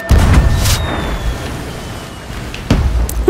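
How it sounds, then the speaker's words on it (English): Several booming bursts of fireworks in the video game Sea of Thieves, a loud cluster at the start and another sharp blast near the end, with a crackling rumble in between. "Ooh, fireworks."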